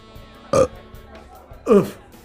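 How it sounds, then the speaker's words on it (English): Two short, guttural burps about a second apart, the second longer and deeper, with quiet background between them. "Suddenly, a low but hearty belch escaped the stone."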